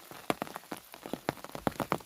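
Rain falling over ripe rice fields, a soft continuous patter broken by frequent distinct close drop hits in an irregular rhythm, with no talk.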